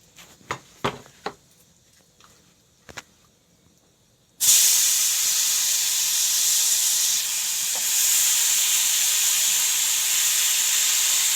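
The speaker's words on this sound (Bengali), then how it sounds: "আর এখন এই যে আলু ভাজতে দিচ্ছি" Potatoes dropped into a hot pan set off a sudden loud, steady hiss of frying that holds unbroken and close, after a few light clinks and taps in a quiet kitchen.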